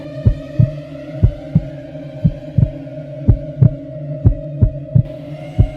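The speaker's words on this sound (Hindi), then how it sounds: "दिल जोर जोर से धड़कने लगा" A heartbeat sound effect throbs steadily and loudly, about a dozen deep paired thumps at a regular pace over a low sustained hum, with no voices.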